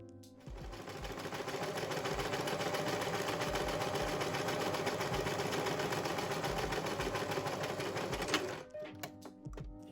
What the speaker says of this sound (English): we're just going to sew a straight stitch along the sides